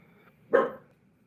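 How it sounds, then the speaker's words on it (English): A dog gives one short, sharp bark, close and clear against a quiet room, with no talking during the bark. "Be quiet, you dogs."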